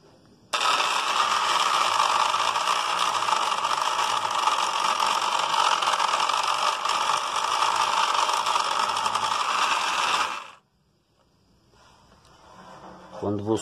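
Black & Decker electric sander with a weak-power fault, switching on to a steady, loud, high-pitched buzzing whine that runs for about ten seconds before cutting off abruptly, leaving near silence.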